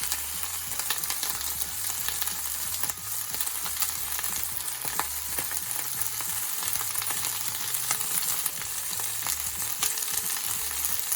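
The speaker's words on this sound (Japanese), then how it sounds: "ブリの反対側を焼き、ネギも転がして全体を焼きます。" Yellowtail fillets and green onions sizzle steadily as they pan-fry for teriyaki, a dense close crackle of oil with occasional stirring and rolling sounds, loud and continuous with no voices.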